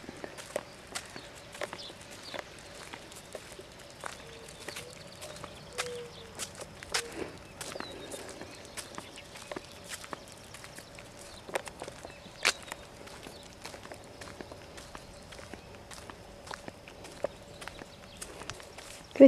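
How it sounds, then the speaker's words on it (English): Hooves of a horse walking clip-clop steadily along, a light irregular series of sharp taps over a faint tonal hum, fairly quiet and without talk. "My little horse."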